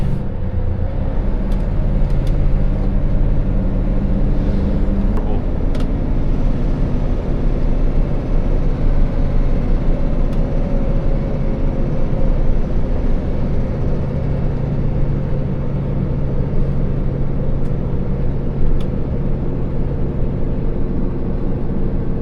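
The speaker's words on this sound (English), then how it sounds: "These Scania retarders though are very good at holding the vehicle back, not touching the brakes" A Scania truck descending the steep Berriedale Braes with its retarders holding it back, a loud, steady low drone from engine and drivetrain that stays even throughout, with no braking or talk.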